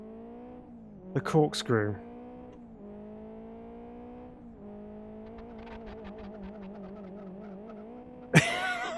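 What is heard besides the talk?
car handbrake turn in video game Live For Speed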